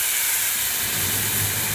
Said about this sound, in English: We're going to turn on our fan.